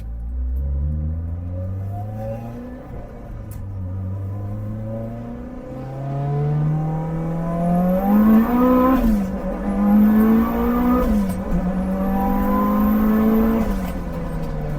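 A tuned 900 HP Mitsubishi Evo 8 revs hard through several gears, the pitch climbing and dropping at each shift, loud and close with a whistling turbo note.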